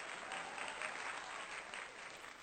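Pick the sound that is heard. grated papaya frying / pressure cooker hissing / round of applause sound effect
round of applause sound effect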